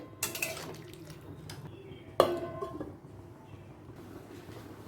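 Water poured into a pan of potato and pointed gourd curry, with a short splashing pour at the start, a sharper splash and clink a couple of seconds later, then quiet simmering.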